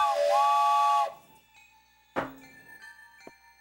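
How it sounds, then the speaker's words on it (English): A loud, steady whistle with bright harmonic tones sounds for about a second and then cuts off, followed by quieter tonal ringing, a sharp hiss-like burst and a faint tick. "Get the scam train whistle out."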